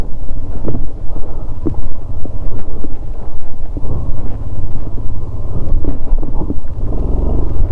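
An off-road motorcycle struggles through slippery, sticky mud on a trail near Jana waterfall toward Bijli Mahadev in Kullu. A loud, continuous engine rumble is buffeted by heavy wind noise, with no talking.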